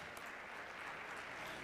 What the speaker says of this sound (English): Please give a very warm round of applause to Alex, to Michael, and to Alyssa.